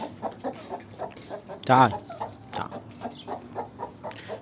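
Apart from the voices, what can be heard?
young egg-laying hen clucking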